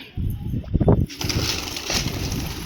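Pigeons flutter and scuffle close by as one is caught by hand, with a burst of flapping wings and rustling against a noisy outdoor background.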